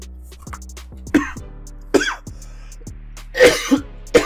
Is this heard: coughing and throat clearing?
yes